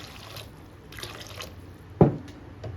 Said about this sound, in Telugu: ఓకే, కొంచెం వాటర్ పోసుకుందాము